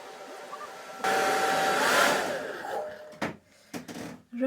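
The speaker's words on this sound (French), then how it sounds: "je vais me sécher les cheveux" A hair dryer blowing on hair, switching on with a sudden steady whoosh that holds for about two seconds, then tapers, cuts out and restarts in short bursts.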